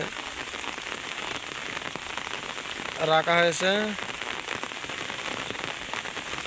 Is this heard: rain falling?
yes